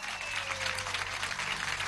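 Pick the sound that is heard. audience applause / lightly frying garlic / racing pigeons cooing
audience applause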